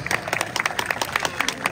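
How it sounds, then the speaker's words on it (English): A small audience at an Australian bird show claps briefly after a bird uses a rock to smash an emu egg, with scattered, uneven hand claps close by. "she can have a round of applause for that"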